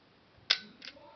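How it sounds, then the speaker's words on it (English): A film rangefinder camera's leaf shutter fires once, a single sharp, close little click followed by a softer second tick, alone in a quiet room. "All these cameras have leaf shutters as opposed to curtain shutters like modern day cameras. So here's the shutter sound if you're curious."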